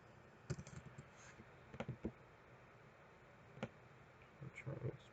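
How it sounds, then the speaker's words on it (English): Keyboard typing in a design app: a few quick, light key clicks in short clusters, faint and close, over a quiet room hum, with no talking. "We're just gonna type trending."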